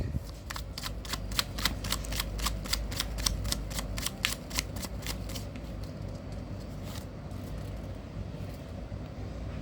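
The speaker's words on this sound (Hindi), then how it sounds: "last shuffle" Tarot cards shuffled by hand in a steady run of crisp, evenly spaced riffling snaps, close and fairly quiet, slowing and fading toward the end.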